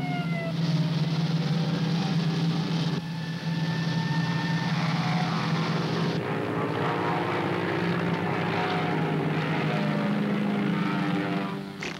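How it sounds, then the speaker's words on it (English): An airplane taking off from a runway, a sustained close engine roar with droning propeller tones that shift in pitch as it gathers speed, loud and continuous without speech. "Fasten your seatbelts. We are taking off."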